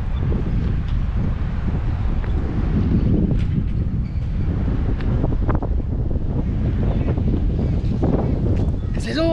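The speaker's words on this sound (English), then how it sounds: "It's a bit windy, sorry about that." Strong wind buffets a microphone outdoors in a large, empty lot, a constant loud low rumble with gusty surges and scattered crackles.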